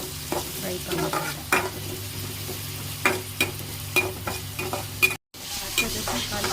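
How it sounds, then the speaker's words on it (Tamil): Onions frying with mustard seeds in a hot pan for mango and drumstick sambar, a close, continuous sizzle broken by repeated scraping stirs and short clatters against the pan. "ஆனியன் ஆட் பண்ணி நம்ம ஃப்ரை பண்ணலாம்"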